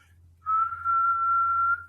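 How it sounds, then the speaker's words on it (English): A single steady whistled tone, clean and pure, held for over a second over a low background hum. "when we whistle, there's a very clean sinoid sound that comes out of"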